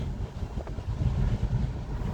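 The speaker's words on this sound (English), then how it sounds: "it is super fucking windy today" Strong outdoor wind buffets the microphone in a steady, loud, low rumble with no pauses.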